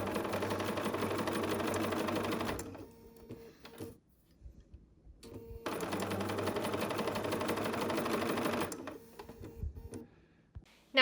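A sewing machine stitches a quilt seam with a steady, loud mechanical whir in two long runs separated by a brief pause, close up with no talking.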